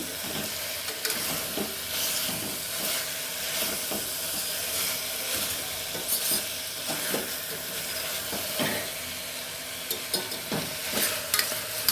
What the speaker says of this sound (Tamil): நல்லா பச்சை வாடை போகிற அளவுக்கு நல்லா கிண்டிக்கலாம்